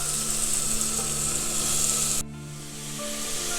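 Tomatoes sizzle loudly in a hot pan, then the frying hiss drops suddenly as chopped bottle gourd is tipped in, and a softer, steady sizzle continues afterward.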